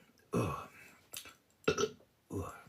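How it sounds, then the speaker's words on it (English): A man's burp during a live discussion, a loud croaking belch standing alone among short bursts of nearby speech. "Excuse my burp."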